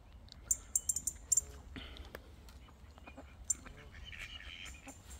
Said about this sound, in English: Got a few ducks about